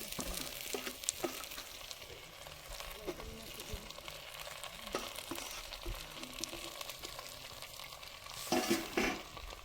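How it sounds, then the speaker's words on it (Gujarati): Turmeric roasts in homemade cow's ghee in a pan, making a soft, steady sizzle with scattered clinks and stirring scrapes, close up, and a louder burst near the end. "હવે આપણે હળદરને ઘીમાં શેકી લેવાની છે."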